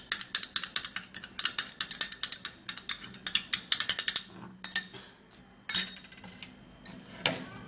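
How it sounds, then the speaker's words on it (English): Egg whites are whisked briskly in a bowl, a rapid, close run of rhythmic clinking strokes that pauses briefly and then resumes. "So this is the egg whites, and we're gonna whisk it just a little."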